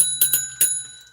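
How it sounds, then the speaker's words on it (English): A small bell is rung three times in quick succession, bright ringing strikes near and clear, each leaving a sustained metallic tone that decays into quiet. "So I have rung the bell for the free yes no tarot"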